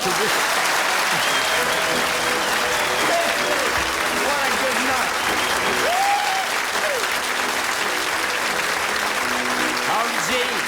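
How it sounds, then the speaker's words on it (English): A large television talk-show studio audience claps continuously and loudly, a dense, sustained wash of applause with scattered whistles and cheers throughout. "Could you start this off with a long, overwhelming burst of applause so that I feel it?"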